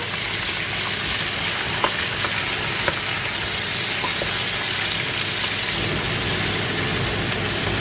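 Chicken pieces brown in fat in a pan for poulet basquaise, producing a loud, dense, unbroken sizzle with a few faint pops and no talk.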